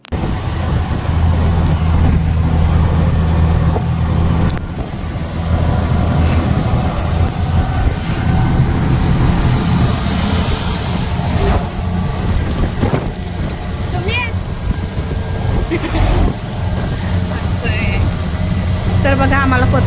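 A car's steady engine and road rumble from inside the cabin while driving to a temple visit, continuous and loud throughout, with occasional knocks and rattles and people talking over the drone.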